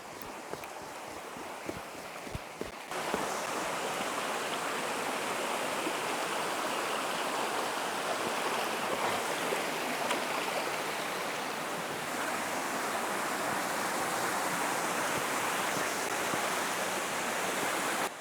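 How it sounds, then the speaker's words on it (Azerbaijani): Bibiyani waterfall and its stream in Lerik rush with a steady, dense roar of falling and flowing water. The sound is loud and constant, swelling fuller after the first few seconds. "Artıq şəlaləni də görürük. Bibiyoni şəlaləsi"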